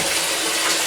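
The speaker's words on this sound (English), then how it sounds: "I've now got to run some hot water and wash my hands" Hot water pours from a kitchen tap in a loud, steady, close-up hiss and splash with no break in the flow.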